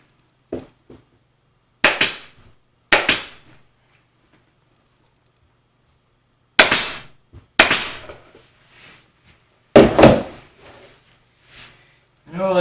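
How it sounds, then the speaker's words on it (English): An air staple gun fires staples through fabric on a step cornice: five or six sharp, loud pneumatic snaps, close by and irregularly spaced, with quiet handling noise between them. "Much easier when you're using an air staple gun than a regular gun."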